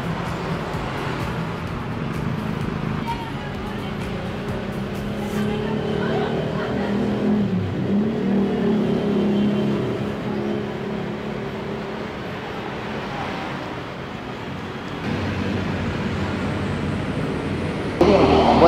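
A modified motorcycle rides through busy, crowded traffic, giving a continuous engine drone blended with surrounding road noise and passing vehicles, steady throughout with a brief louder rise at the very end.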